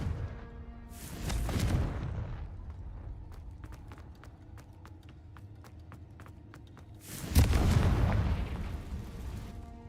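Two Confringo spell blasts in the Hogwarts Legacy video game, each a heavy booming burst several seconds apart, separated by a steady run of light rhythmic ticking steps, with no voices.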